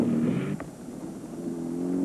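Rally cars streaming through a desert checkpoint during the 1973 Mint 400 near Las Vegas, engines droning nearby, one fading briefly before another approaches and grows louder.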